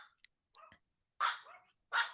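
A dog named Loaf barks outdoors during a lightning storm, a few sharp barks spaced irregularly along with some softer yips and whines, moderately distant and alone.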